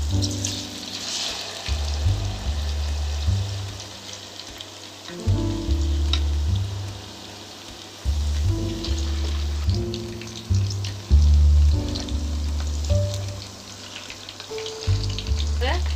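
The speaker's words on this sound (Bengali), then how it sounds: "ভেজে নেব" Spring potatoes frying in hot oil, a continuous soft sizzle and bubbling with intermittent low tonal hums and occasional stirring clicks, fairly quiet and close.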